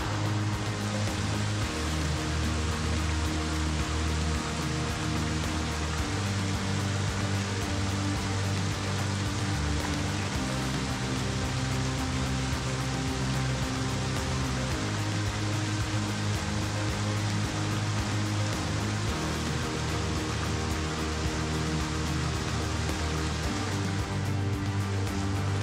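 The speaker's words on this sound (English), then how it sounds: "It's just started to rain" Rain beginning to fall in a Blue Mountains canyon on the Newnes Plateau, a steady broadband hiss of drops on rock and water, continuous and fairly loud, with no voices.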